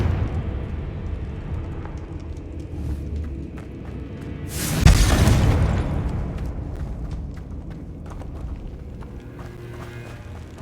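Confringo blasting curse going off in Hogwarts Legacy, a single loud burst with a sharp crack and rumbling tail around the middle, over steady game ambience and footsteps.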